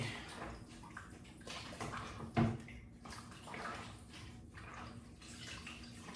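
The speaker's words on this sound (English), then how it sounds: "I'm washing potato chip bags." Empty potato chip bags washed by hand in a basin of water, with steady sloshing and splashing, a brief louder splash midway, close and continuous with no talking.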